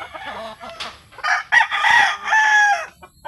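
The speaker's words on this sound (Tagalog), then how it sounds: "madami tayong manok dito." A rooster crows loudly and close by, with hens clucking around it and short bursts of fowl noise between the calls.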